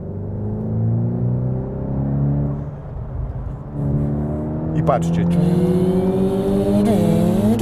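A Volkswagen T-Roc R four-cylinder engine with a titanium exhaust idles and then blips sharply several times, rising revs with a crackle, while someone talks over it.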